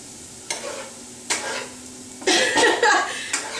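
Eggs hit a hot, wet griddle and are scraped and stirred with a metal spatula, with several sharp scraping strokes over a bubbling sizzle. The frying grows louder toward the end.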